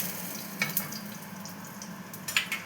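Pieces of fish fry in a small amount of oil for a Bengali fish curry, giving a steady close sizzling hiss with a few brief crackles and spatters throughout.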